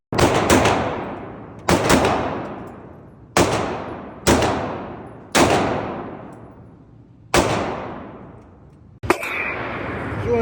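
Loud pistol shots from an HK VP9 at a gun range, about seven sharp reports spaced one to two seconds apart, each with a long echoing decay, the last followed by a different noisy sound.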